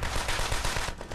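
A rapid burst of video game gunfire, loud dense automatic shots crackling in quick succession before thinning out near the end.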